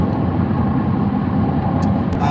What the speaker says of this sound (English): This road surface is so loud in this car.